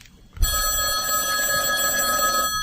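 A telephone rings continuously with a steady electronic trill, close and clear, starting after a brief quiet moment and holding through to the end with no voices.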